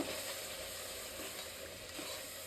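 Spice paste roasting in a pan for a Sunday-special country-style biryani, giving a steady, close, dense sizzle that carries on evenly with no talking.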